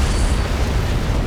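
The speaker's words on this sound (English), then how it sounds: "I'd guess an antimatter charge." A heavy antimatter charge detonates aboard a starship in a Halo CE cutscene, giving a deep, sustained rumbling roar that stays loud and dense for the whole moment without a break.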